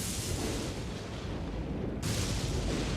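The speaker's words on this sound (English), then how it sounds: "Loretta's Mastery is in fact one of the longest reaching attacks in the game" Loretta's Mastery, a long-reaching ranged attack in Elden Ring, fires as a dense, loud, rushing blast of noise that briefly dips and then surges again, with no voices.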